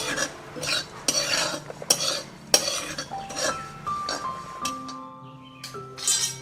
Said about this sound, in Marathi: असाच मंद आचेवरती एकसारखं भाजायचंय एक दोन ते तीन मिनिटं लागतात त्याला होईस्तवर सतत ढवळत राहायचं आहे